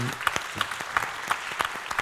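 An audience claps in a panel session at a film festival, a moderately sized round of applause with distinct individual claps, fairly close and steady throughout.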